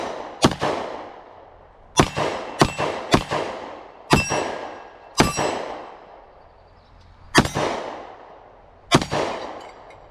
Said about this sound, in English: Let's fire off the last mag. We got a little bit more of the steel case in here.